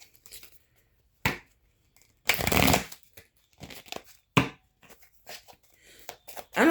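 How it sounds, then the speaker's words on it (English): Moonology oracle cards shuffled by hand, heard as a few separate close, papery bursts of riffling and sliding with quiet pauses between them. "Let me get a few Moonology cards."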